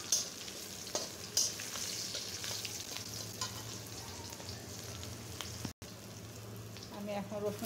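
Whole garam masala and bay leaves fry in hot oil, a steady close sizzle with occasional crackles and stirring clinks, and a brief dropout near the end.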